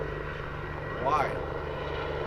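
A helicopter circles overhead above a highway, its rotor and engine drone steady and moderately loud, swelling briefly midway, while a person speaks a single word.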